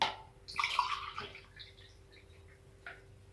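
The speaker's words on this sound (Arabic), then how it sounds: "وهضيف كمان يا حبايبي الميه" Cold tap water is poured from a cup into a bowl of batter for crispy fried cauliflower, a short splashing trickle followed by faint drips, close and alone.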